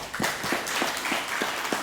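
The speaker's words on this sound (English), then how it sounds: "Could you please give a big applause?" Light, sparse clapping from a small group at the closing ceremony of an English communication course for diplomats, with distinct individual claps in an uneven rhythm.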